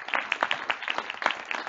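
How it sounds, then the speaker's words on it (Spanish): Applause for a doctor at the close of a talk at a data lab event, a small audience clapping in quick, uneven bursts of distinct nearby hand claps, lively and close throughout. "pues también un otro aplauso"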